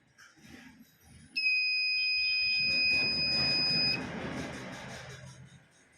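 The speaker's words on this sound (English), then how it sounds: "Now put the smoke in front of sensor and the buzzer will start beeping." A smoke sensor kit's buzzer sounds a loud, steady high-pitched electronic tone for about two and a half seconds, with faint handling noise before it and a hiss after it.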